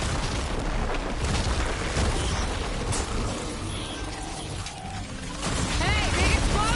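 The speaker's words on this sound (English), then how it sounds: "Hey, big explosion!" In the Horizon Zero Dawn DLC game, glowing crystals detonate with a dense, sustained rumbling roar and mechanical clatter, the blast swelling again near the end amid ongoing combat noise.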